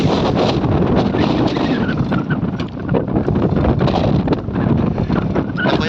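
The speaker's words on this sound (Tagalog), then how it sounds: "Lakas sa hangin na malamig." Strong, cold night wind roars steadily across the microphone, buffeting hard and continuously with gusty surges throughout.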